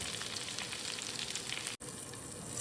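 Curry leaves sizzle in hot oil while stuffed brinjal kulambu is being made. A dense, continuous crackling fry holds steady throughout with no voices, broken only by one very brief dropout.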